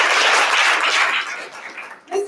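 Audience applause at a community college Black History Month program, a broad burst of clapping that fills the room for about two seconds and then thins out as a few voices come up at the end.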